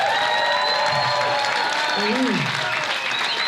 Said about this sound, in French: je vous demande de faire un tonnerre d'applaudissements pour la toute première équipe Capsule